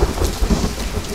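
Rain and rumbling thunder in the survival video game The Forest, a dense steady downpour with low booming rolls, loud and brief.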